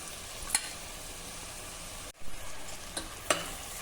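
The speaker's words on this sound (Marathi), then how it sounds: "आता 2-3 मिनिटांसाठी हे डाळ तांदूळ आपल्याला या सर्व मसाल्यासोबत परतून घ्यायचे आहे" Moong dal and rice sauté with spices for masala khichdi, a soft, quiet sizzle under a few sharp spoon clinks and a brief stirring scrape.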